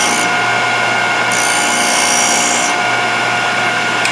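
Thorvie AV-40 sharpening machine grinding the edge of a router bit, a steady loud motor hum with a continuous hissing grind that brightens during the middle pass.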